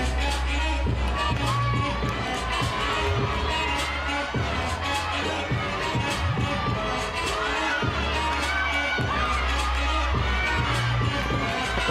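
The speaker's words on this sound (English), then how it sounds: "a lot more engagement from the crowd for their home team as well. You see them on their feet." Home crowd at a college gymnastics floor meet, Georgia against LSU, cheering and shouting on their feet, a steady loud roar of many voices with rhythmic thumping beneath it throughout.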